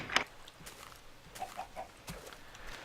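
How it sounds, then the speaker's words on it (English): Chickens in Minecraft give a few faint, brief clucks in a quiet game scene, with scattered soft clicks around them. "Now we have some kind of weird chicken thing here, where the chickens float around"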